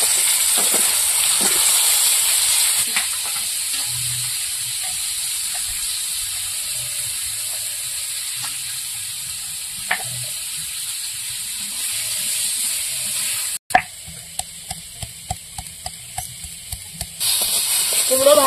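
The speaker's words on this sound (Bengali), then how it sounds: "এবার কুমড়ো ভেজে নেব" Pumpkin pieces fry in oil in a pan with a steady, close hiss and sizzle that runs throughout. Scattered clinks of stirring and utensils grow busier toward the end.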